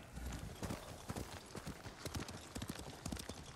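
Horse hooves clip-clop at a steady trotting rhythm as a rider crosses terrain in Ghost of Tsushima, close and continuous, with faint ambient game sound beneath.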